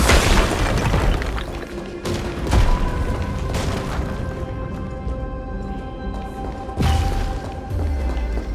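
Detonation blasts in Honkai: Star Rail, heavy booming explosions striking at the start, near the three-second mark and again near seven seconds, loud and close, with ringing tonal effects decaying between them.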